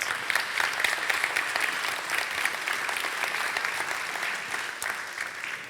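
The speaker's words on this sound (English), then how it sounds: "can we just give her a big round of applause" An audience at a women-in-tech talk gives a steady round of applause, a dense, even wash of many hands clapping, moderately distant and unbroken, without speech over it.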